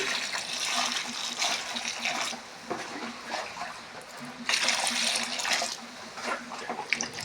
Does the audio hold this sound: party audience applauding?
no